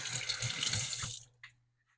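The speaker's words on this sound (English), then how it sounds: "I didn't plan this real well with washing my hands off after the eggs" Hands washed under a running kitchen tap give a close, loud hiss of flowing water that cuts off abruptly partway through, followed by a few faint drips and quiet.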